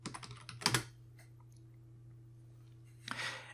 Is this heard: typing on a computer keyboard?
yes